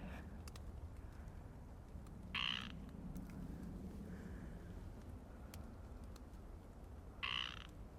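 A frog on a trail gives two loud rasping croaks several seconds apart against a quiet outdoor background.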